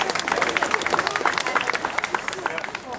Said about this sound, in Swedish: Ta applåder här.